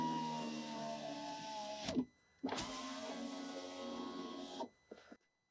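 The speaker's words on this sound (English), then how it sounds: "we'll go ahead and run the window up and down one more time" A power window motor in a BMW E38 runs the glass one way for about two seconds, stops with a soft thunk, then runs back the other way for roughly two more seconds and stops again, close and fairly quiet.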